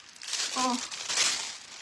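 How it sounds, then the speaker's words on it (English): Aluminium foil crumpled by hand for a stencilled foil craft piece, a close, continuous crinkling rustle lasting about two seconds, with a brief voice sound partway through. "And the more you crumple up, the better."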